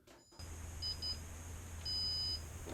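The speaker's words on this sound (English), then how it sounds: "Now we've heard that third beep" Thin, high electronic beeps come from the 3DRudder foot mouse software when the left foot holds down to click and hold, first two short blips and then a longer tone, faint over a steady low hum.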